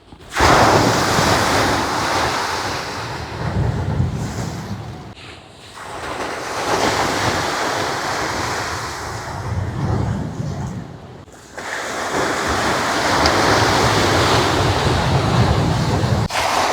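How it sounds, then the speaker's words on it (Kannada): Ocean waves roll in at Rock Beach in Pondicherry. The surf roars loudly and continuously with heavy wind buffeting, dipping briefly twice before swelling again. "ಅಲ್ಲಿ ಬರ್ತಾರೋ ವೇವ್ಸ್ ಎಲ್ಲ ನನ್ನನ್ನೇ ವೆಲ್ಕಮ್ ಮಾಡ್ತಾರೋ ಥರ ಇತ್ತು"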